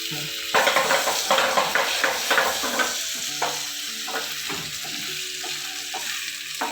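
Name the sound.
stuffed chicken sizzling while cooking in pan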